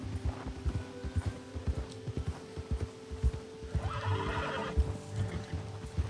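A horse in Red Dead Redemption 2 trots along with a steady, close clip-clop of hooves and gives a neigh midway, with the hoofbeats loud and rhythmic throughout.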